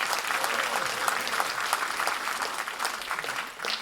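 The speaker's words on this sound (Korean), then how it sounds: "위대한 박수 한번 쳐주세요." Steady applause from a crowd at a political talk concert, dense clapping throughout at an even level, fading slightly at the very end.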